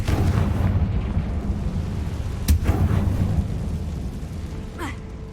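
A Confringo fire spell bursting in the Hogwarts Legacy video game, a deep rumbling blast with a sharp crack near the middle and a further crackle near the end over low continuous rumble.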